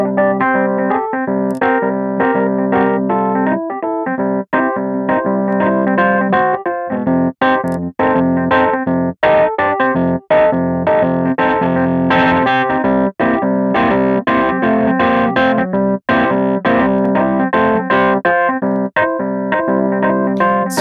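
Waves Electric 88 virtual electric piano played through a hard-driven, dirty amp gives gritty, distorted chords and notes in a steady, busy stream, loud and close, with no voices.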